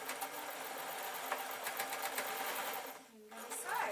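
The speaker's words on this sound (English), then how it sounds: "I'm going to sew." Modern sewing machine stitching a purple bat wing dress, a steady fast mechanical whirr running continuously for about three seconds, pausing briefly, then resuming, with faint talk in the background.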